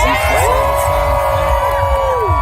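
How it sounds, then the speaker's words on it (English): An audience at a live morning show cheers and whoops loudly, a dense wall of shouting voices sustained for the whole moment. "And you're going to erupt in applause."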